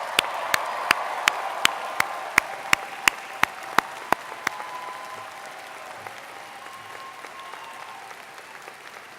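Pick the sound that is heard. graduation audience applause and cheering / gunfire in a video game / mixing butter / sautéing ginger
graduation audience applause and cheering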